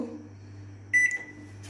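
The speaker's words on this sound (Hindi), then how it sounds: "ये माइक्रोवेव में रखते हैं तो इसे हम 180 डिग्री पे कन्वर्सन मोड पे रख कर देंगे" Microwave oven being set to 180 degrees convection mode while baking oat cookies, giving one short electronic beep midway over a steady low hum in a home kitchen.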